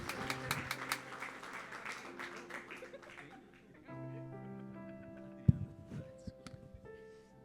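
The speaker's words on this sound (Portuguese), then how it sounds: "aplauda ao Senhor" Congregation applauding in a church service, a brisk patter of many hands for about three seconds that fades as sustained musical tones take over, with one sharp knock midway.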